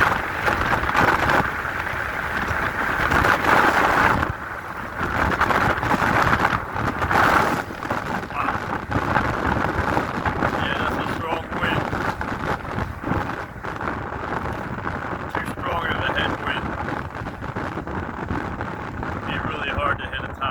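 Strong headwind buffeting a microphone while riding a bike at about 40 mph: continuous loud rushing roar with gusty swells throughout, a rider talking under it.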